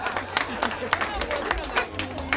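Audience at a tourism excellence award ceremony claps, quick scattered hand claps that sound moderately distant and thin beneath a low room hum.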